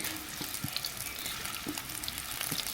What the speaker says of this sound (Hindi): सारे के जो बचे हुए कोफ्ते थे हमने सारे वो भी डाल करके फ्राई कर लेते हैं